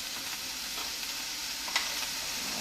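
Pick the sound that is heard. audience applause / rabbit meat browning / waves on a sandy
rabbit meat browning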